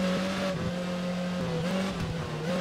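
An F1 car in the racing game F1 2013 accelerates at full speed, its engine a steady, loud high-pitched whine that rises and dips slightly with gear changes.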